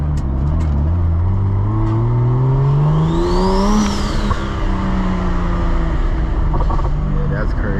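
A BMW's turbocharged engine revs hard under load, a rising drone climbing in pitch with a whistling turbo and wastegate whoosh near the top before easing off, heard up close amid steady road roar while people exclaim over it.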